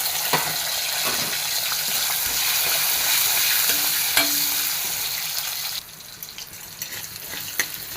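Toor dal, shallots and garlic frying in a pan for a roasted-coconut sambar, a dense continuous sizzle up close that drops off abruptly near the end, with a few light clicks of a utensil and no talking.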